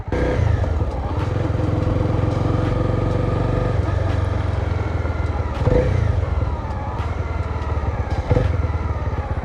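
A motorcycle engine runs steadily and close, its note shifting as the rider changes from second to third gear and then brakes to a stop, with brief clunks and a sharp transient midway.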